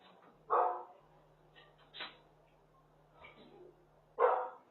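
Dogs bark in several separate loud outbursts at intervals over a faint steady hum, with fainter yips and a soft voice between them.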